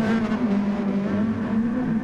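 A race car with engine damage in a racing video game at the Nürburgring endurance round, a steady droning engine note with slight wavering, loud and up close, with no voices.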